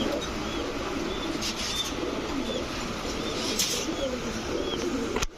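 Pigeons coo softly and repeatedly in a seller's loft among racer, giribaz and fancy breeds, with a constant dense background murmur of many birds nearby.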